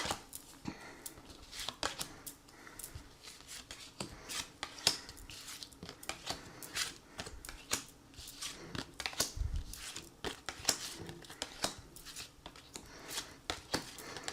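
Tarot cards are drawn and laid out one after another, giving soft, close slaps, flicks and shuffling rustles in a quick, irregular rhythm, with no voice over them.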